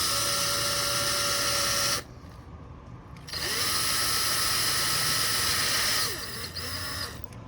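Power drill boring into a coolant line fitting on a Porsche 997 GT3RS, a loud close high whine that runs for about two seconds, stops, then returns for a longer burst before easing off near the end.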